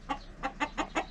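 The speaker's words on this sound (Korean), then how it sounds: "이 닭과 토끼들 너무 이쁩니다." Chickens kept by a water leisure business owner cluck close by, five evenly spaced short clucks in a row over a faint background hum.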